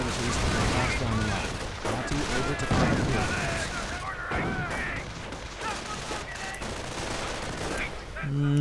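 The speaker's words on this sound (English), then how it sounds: "there is the artillery barrage forcing the Brits away from the east" In a WWII strategy video game, an artillery barrage and gunfire crackle in dense repeated bursts and booms, continuous throughout, with a voice talking over the battle.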